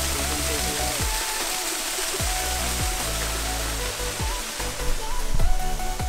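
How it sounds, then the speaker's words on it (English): Steady broadband rush of a waterfall on the Ka'au Crater Trail in Hawaii, a constant close roar with low rumbling and brief low thumps, swelling slightly louder near the end. "See what the waterfall looks like."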